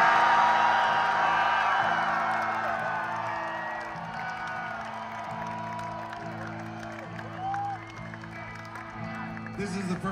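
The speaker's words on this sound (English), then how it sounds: "So everybody give a big fucking scream for Mr." A big festival concert crowd screams and cheers at a show at Riot Fest in Chicago. The roar is loudest at the start and slowly tapers under sustained whoops, with background hum from the stage.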